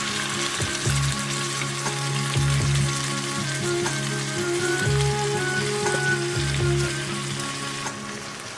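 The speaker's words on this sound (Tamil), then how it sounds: "இப்போ கடாயில் ஒரு 2லேருந்து 3 டீஸ்பூன் நெய் போட்டு சூடானதுக்கப்புறம் நம்ம அந்த மேரினேட் பண்ணி வச்சுருக்கிற சிக்கனை அதில் போட்டு" Marinated chicken sizzles steadily in hot ghee in a kadai over a low flame, a close, continuous crackle with a faint hum and occasional stirring scrapes.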